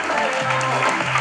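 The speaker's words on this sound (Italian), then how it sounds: "fatelo forte l'applauso che se lo meritano veramente tutto" An audience applauds at a concert at Teatro Trocadero: a brief, dense burst of clapping with a faint tonal sound underneath.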